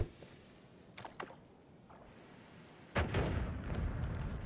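A bomb detonates in the Noita roguelike game, a sharp loud blast after a few faint clicks and pops, leaving a rumbling tail with no talk over it.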